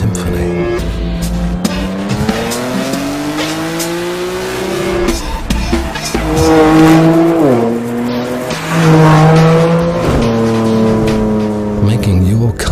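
A 2017 BMW M4 with an Akrapovic exhaust roars under hard driving, loud and close, the engine note climbing and dropping through gear changes with some tire squeal.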